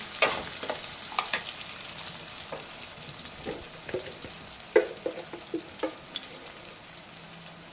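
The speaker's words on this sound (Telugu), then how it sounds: "ఇప్పుడైతే కొంచెం కరివేపాకు వేసుకుందాం" Curry leaves sizzle in frying onions for a potato and tomato curry, a steady hissing fry broken by scattered crackles and the clink of stirring.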